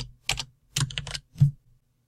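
Quick bursts of keystrokes on a computer keyboard while entering a search into a Microsoft Access form: three short clusters of clicking, close and crisp, with no voice.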